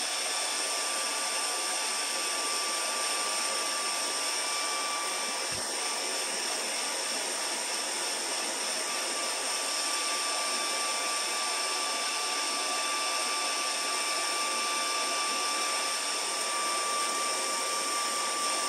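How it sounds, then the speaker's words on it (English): A hair dryer runs steadily and loudly, close by, as it heat-sets fresh airbrushed paint on a glide bait fishing lure. It gives a continuous whining roar with one brief click partway through and no speech. "There's a hair dryer."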